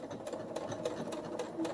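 A sewing machine runs close and steadily, going back and forth over a strap on a pleated pouch, with an even rapid stitching pulse and no talk.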